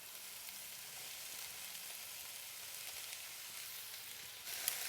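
Onions frying in a pan alongside meatballs and peppers, giving a steady, even sizzle that carries on unbroken with no talking over it.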